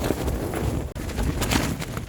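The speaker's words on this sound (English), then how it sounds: "It's really windy, and it's getting even more windy." Steady, loud wind of Storm Isha buffeting the microphone at a hilltop wild camp, a broad rushing roar with gusty swells and no voices.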